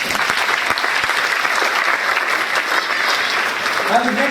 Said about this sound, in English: we give all 4 of them a round of applause